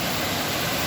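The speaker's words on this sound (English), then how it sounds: "there's Dyserth Waterfalls" Dyserth Waterfalls in North Wales, a 75-foot drop, gives a steady, loud, broadband rush of falling water in one brief unbroken burst with no voices.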